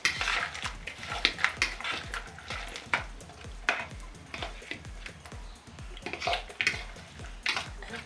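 Spanish omelette ingredients being mixed in a bowl with a utensil, a quick, regular run of close scraping and tapping strokes against the bowl, fairly quiet and continuing without talk.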